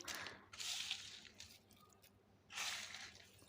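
Soil mix with extra sand being mixed by hand for potting rain lily bulbs, faint close squishing and gritty rustling in two bursts with a short pause between.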